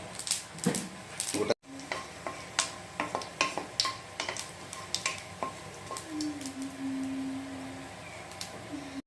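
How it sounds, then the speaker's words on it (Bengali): A tempering of cinnamon stick, three cardamom pods and half a teaspoon of cumin dropped into hot oil, sharp crackles, pops and utensil clicks over a low sizzle, with a brief pause near the start. "তো এখন ফোড়নের জন্য দিয়ে নেব দারচিনি 1 টুকরা, 3টা এলাচ, আর হাফ চা চামচ জিরা"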